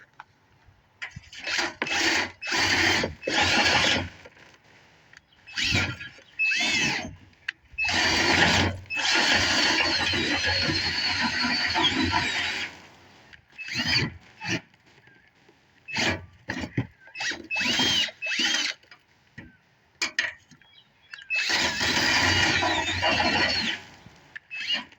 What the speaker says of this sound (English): You tuck this up in a drill.